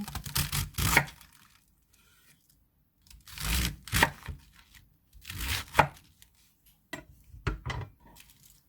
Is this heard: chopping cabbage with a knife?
yes